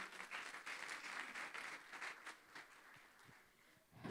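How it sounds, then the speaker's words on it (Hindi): Faint, steady audience applause at a church Sunday school Christmas celebration, a continuous wash of many hands clapping throughout. "आप सबकी भरपूर तालियों में"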